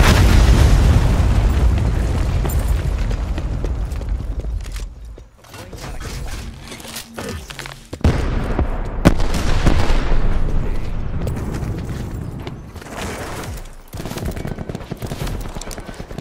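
Hellstorm missile strike in Call of Duty: Black Ops 4 gameplay: loud, close blasts rumble in heavy succession, trailing into crackling debris and further booming impacts, with a brief drop in level partway through.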